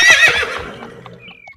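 A loud, close horse whinny in an animated story, set beside a horse-drawn carriage. The high cry opens strongly, then trails off with a faint hoof clop toward the end.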